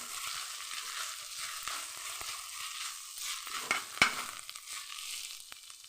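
Curry base frying in a pan with salt just added, a soft, fairly faint sizzle with occasional stirring scrapes and clinks, close by and without speech.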